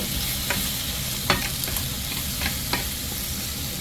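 Crab soup base frying in a pan as tomatoes go in, a steady close sizzle broken by a few sharp scrapes and clinks of a stirring spoon, with no talking.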